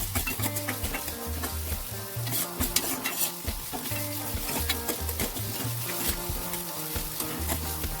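Ginger, garlic and green chilli fry in a pan while being stirred, a steady close sizzle with scraping and stirring strokes running throughout.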